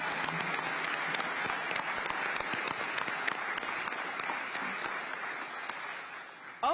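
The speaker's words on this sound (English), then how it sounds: "Give our council members a round of applause." An audience at an Oakland mayoral swearing-in ceremony applauds council members with sustained, dense clapping that holds steady and then tapers off near the end.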